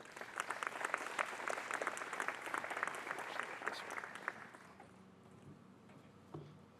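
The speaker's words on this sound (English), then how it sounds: "Let's give him a round of applause." An audience at a university ribbon-cutting ceremony applauds a graduate student speaker, a dense burst of claps that holds steady for several seconds, then fades out, leaving a few scattered sounds.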